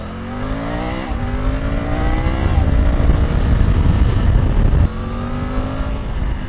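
A Triumph Tiger 900 Rally Pro in sport mode accelerates hard, its engine note rising through the revs in two pulls with a brief break between them, loud and close with strong wind rush.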